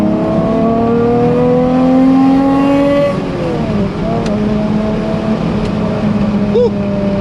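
A 1991 Toyota MR2 with a 2GR engine accelerates hard, its loud, close engine note climbing steadily in pitch, dropping briefly at a gear change, then rising again under continued throttle.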